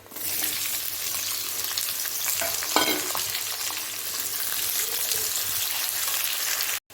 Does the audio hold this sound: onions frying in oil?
yes